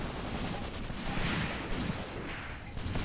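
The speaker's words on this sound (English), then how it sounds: "Oh, loving the machine gun fire." Machine gun fire in the WWII tactics game Graviteam Tactics: Mius Front, a steady, fairly faint stream of rattling bursts and distant gunfire blending into a continuous battle din.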